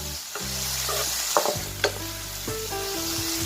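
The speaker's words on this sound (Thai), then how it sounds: "ผัดคลุกเคล้าให้เข้ากันนะคะ" Mushrooms stir-fried with unsweetened condensed milk in a pan sizzle steadily, with a spatula scraping and clinking against the metal a few times. Close and continuous, with no voices.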